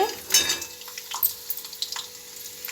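A handful of peanuts frying in a pan, a soft crackling sizzle with light scraping stirs and small clinks, close and fairly quiet.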